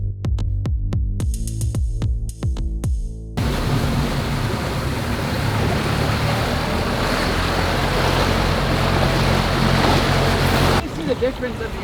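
A tour boat on Jokulsarlon glacier lagoon in Iceland, a loud, steady rush of motor, water and wind noise that follows a few seconds of sharp clicks and thumps.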